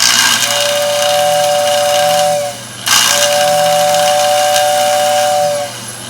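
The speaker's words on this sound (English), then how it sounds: "Let's hear this whistle." A prewar Lionel toy train tender's steam whistle blows twice, each a steady hissing tone about two and a half seconds long, separated by a brief pause.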